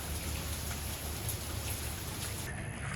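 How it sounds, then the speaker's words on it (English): Steady rain pattering outdoors during a break from exterior house work, a dense continuous hiss with scattered drops, close and even throughout, no voices. "Started raining."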